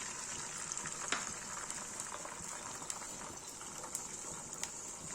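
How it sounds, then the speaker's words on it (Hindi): An omelette frying in hot oil for a Kashmiri-style egg dish, with a steady soft bubbling sizzle and faint scattered pops, no voices over it. "तेल गरम हो गया, ऑमलेट बना देते हैं।"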